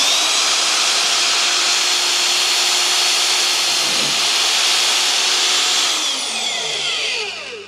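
A loud, continuous whirring Vevor magnetic drill grinds through a hole with a harsh hiss, poorly seated, then winds down with a falling whine near the end.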